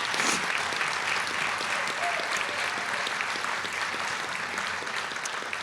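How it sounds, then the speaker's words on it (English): An audience applauds Judge Wright at the Chicago Bar Association's Earl B. Dickerson Awards, a dense, sustained roomful of clapping holding steady throughout. "Let's give him a big round of applause."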